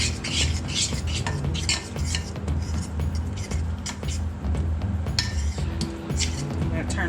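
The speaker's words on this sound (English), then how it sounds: "Give it a little stir." A utensil stirs a thick paste in a pan, with repeated close scraping and clinking against the metal over a low steady background hum.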